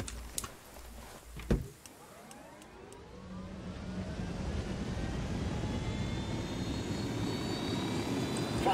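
An aircraft flies in Ghost Recon Wildlands, a few sharp clicks and thumps giving way to a rising, steady engine roar that grows loud and holds to the end.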